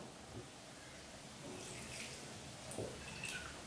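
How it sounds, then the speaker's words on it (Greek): Water pours steadily into a bowl as a quiet, continuous splashing trickle for several seconds, with a few faint drips. "θα προσθέσω επιπλέον νερό, γιατί θέλω 1 κιλό νερό"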